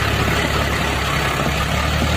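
A tractor engine, from one of the Sonalika, Swaraj and Eicher models, runs close by with a loud, steady low rumble and no break or change in pace.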